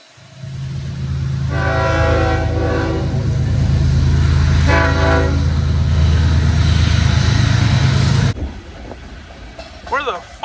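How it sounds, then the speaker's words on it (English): A train rumbles past close by with a heavy low roar, its horn blaring twice in long blasts, before the noise cuts off abruptly near the end; faint voices are audible underneath. "You gonna jump on the train?"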